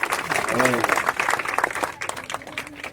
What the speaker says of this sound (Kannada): ಚಪ್ಪಾಳೆ ತಟ್ರಿ